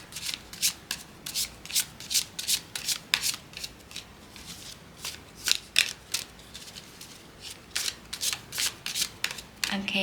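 Tarot cards of a Katina deck are shuffled in quick, repeated riffles and rubs, close and crisp, arriving in bursts with short pauses between them throughout.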